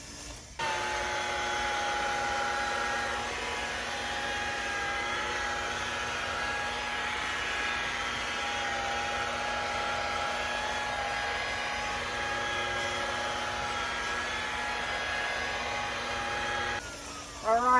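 A rotary polisher turned up to 1200 RPM compounds a black boat hull, giving a steady, loud, continuous motor whine with an even tone for about sixteen seconds before it winds down at the end.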